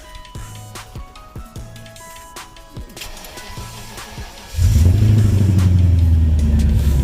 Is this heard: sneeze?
no